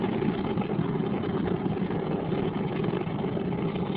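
Space Shuttle Discovery's three liquid-fuel main engines during launch, a steady, even rumbling roar at moderate level that holds without change throughout, with no voices.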